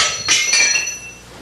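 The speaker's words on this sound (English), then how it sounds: "Just use a regular hammer, whack it a few times," A regular hammer strikes a wrench twice in quick succession, giving close, bright metallic clinks with a short ringing decay.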